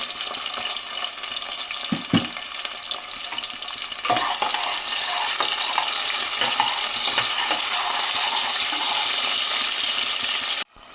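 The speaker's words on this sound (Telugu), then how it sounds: "ముందుగానే కట్ చేసి పెట్టుకున్నటువంటి ఉల్లిపాయలు, పచ్చిమిరపకాయలు కూడా వేస్తున్నాను. అవి కొంచెం వేగాలండి." Onions and green chillies fry with whole garam masala for a mutton bone curry, a close, steady sizzle that swells louder partway through, with stirring scrapes and no talk.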